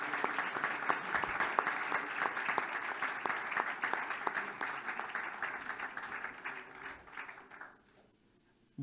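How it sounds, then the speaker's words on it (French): Applause from the audience at the 2017 Norbert Ségard awards ceremony as young-hopeful prizewinners stand on stage, steady dense clapping for several seconds that fades out and stops near the end. "Un grand sourire, sous les applaudissements"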